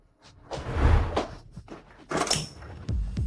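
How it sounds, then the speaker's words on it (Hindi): A door being opened indoors: a couple of soft thunks and a brief scraping creak, close and moderately loud, with short gaps between the knocks. "मैं दरवाजा खोलती हूँ।"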